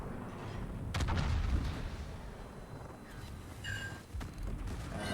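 Naval guns on the battleship Vermont fire armor-piercing shells in World of Warships, with two heavy booms about three seconds apart over a constant low rumble of engine and sea.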